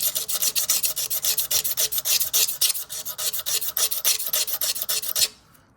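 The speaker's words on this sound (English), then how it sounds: "you're gonna scrape all the old, junky stuff off" Old gasket material being scraped off a VW Mk1 diesel engine during a water pump replacement, a steady rhythmic rasping of quick back-and-forth strokes, close and loud, stopping abruptly near the end.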